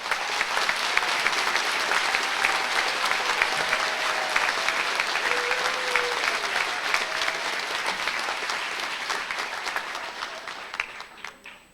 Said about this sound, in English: let's give these family, friends, and significant others a richly earned round of applause